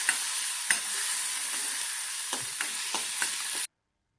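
Ground spice paste frying in hot oil over a medium flame, a steady bright sizzle with several sharp scrapes of stirring, then it cuts off abruptly.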